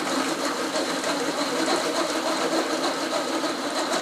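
A hand-crank chopper is wound to chop chunky salsa ingredients, giving a steady whirring, grinding rattle that runs continuously and close by with no talking.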